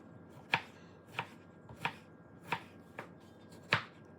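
Knife chopping tomato and onion into small pieces on a board for a Ramadan dish, six sharp separate chops at an uneven pace, close and clear with no talk.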